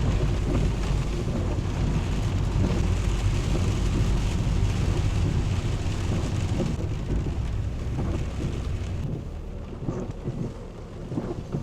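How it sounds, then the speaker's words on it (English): Heavy rain pours down in a dense, steady roar of drops hitting surfaces, loud and continuous throughout with a low rumbling undertone and no talk. "So as you can hear that rain,"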